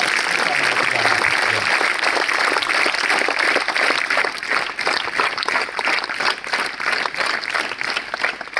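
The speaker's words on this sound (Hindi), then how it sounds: "उन दोनों के लिए बहुत जोरदार तालियां।" Loud, sustained applause fills a school room for two girls who recited a poem and a story, dense clapping continuing evenly throughout with no break.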